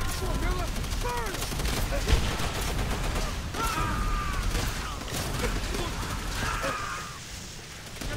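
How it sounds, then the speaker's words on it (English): Dense, continuous gunfire in Call of Duty: World at War, with rapid automatic bursts and scattered shots layered over a busy battlefield din and shouted voices, easing slightly near the end. "we are getting shot from everywhere"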